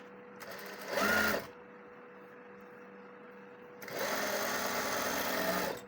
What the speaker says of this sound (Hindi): साइड की फिटिंग की सिलाई लगा दूँ मैं